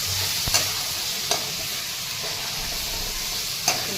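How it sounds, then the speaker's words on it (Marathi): Potatoes with coriander stalks sautéing in a pan for a potato sabzi: a continuous close frying sizzle with a few sharp spatula taps against the pan, no voices. "बटाटा परतून घ्यायचा आहे"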